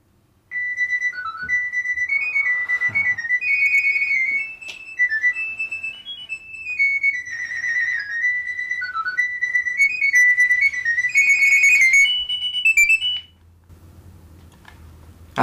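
A mobile phone ringtone plays a loud, continuous electronic melody of warbling tones for about twelve seconds before cutting off, with no talk.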